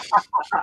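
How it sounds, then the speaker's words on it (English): Pet chickens clucking outdoors, three quick, fairly faint clucks in a short burst with brief gaps between them. "Do you hear my birds?"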